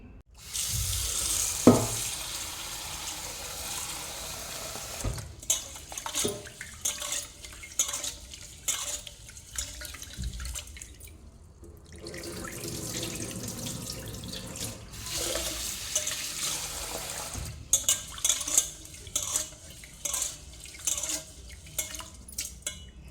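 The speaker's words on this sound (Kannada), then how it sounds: "ಇದನ್ನು ಇವಾಗ ಮೂರು ಸಲ ತೊಳ್ಕೊಳ್ವ ಚೆನ್ನಾಗಿ" Raw parboiled rice is washed by hand in a pot of water, with running tap water, sloshing and grainy swirling, and the occasional clink of the vessel, close and moderate with no speech.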